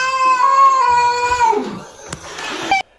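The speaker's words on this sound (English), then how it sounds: "Doesn't that meow sound familiar?" A cat lets out a long, drawn-out meow, loud and close, tapering off before a short rustle and a second brief cry.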